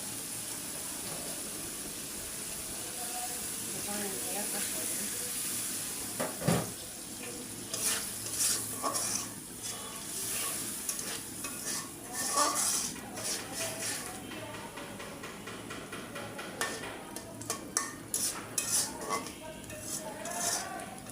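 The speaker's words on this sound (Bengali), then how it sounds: "এটা একটু ভালো করে কষাই নিই।" Blended spice paste for a Mymensingh-style dried fish curry fries and sizzles steadily in a pan, with repeated scraping and clinks of a spoon against the cookware as it is stirred.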